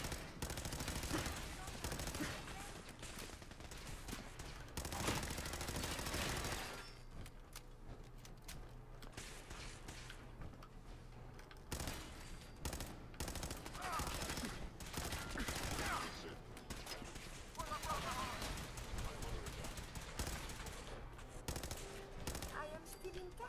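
Sustained automatic gunfire and rapid bursts crackle through a Fallout 4 firefight, dense and loud for most of the stretch, with brief lulls and scattered single shots.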